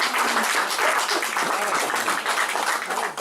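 Audience applause at a bookshop author event, a dense, lively clatter of many hands clapping together, close and steady throughout.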